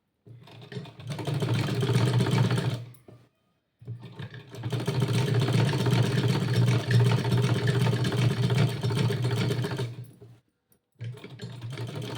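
A sewing machine runs stitching salwar fabric in long continuous bursts of dense, steady whirring and needle clatter, close up, with two short pauses between runs.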